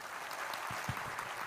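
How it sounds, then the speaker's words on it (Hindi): An audience at a religious darbar gathering claps, a faint, steady patter of many hands heard from a distance. "लीजिए, यह दरबार आप लाइव देखते हैं, लाइव में पर्ची दी जा रही है, लेकिन ताली तो बजा दीजिए"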